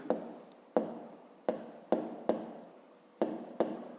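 Pen or pencil taps and strokes on paper while working a fifth-grade maths exercise, about seven distinct quiet strikes at roughly half-second intervals, each trailing off, close and alone.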